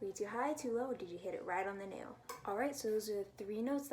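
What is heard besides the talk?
None of the usual background noises is heard.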